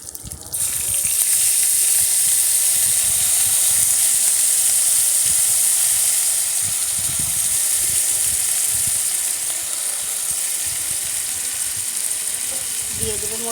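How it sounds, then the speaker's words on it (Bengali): Ginger-garlic paste hitting hot rendered beef fat in a pan gives a loud, steady sizzle and frying hiss that holds for the whole stretch, with a brief clatter at the end. "আমি এখন দিয়ে দেব আদা রসুন বাটা।"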